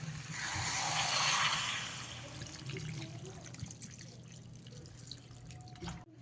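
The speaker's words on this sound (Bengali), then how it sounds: "এবারে এর মধ্যে পরিমাণ মতন জল দিয়ে দিতে হবে" Water is poured into a pan of jackfruit curry, making a rushing, splashing pour that swells early and then eases off into soft trickles and drips nearby.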